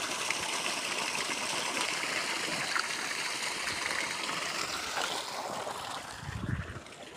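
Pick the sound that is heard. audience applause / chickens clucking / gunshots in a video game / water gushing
water gushing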